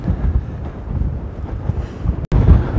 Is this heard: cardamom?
no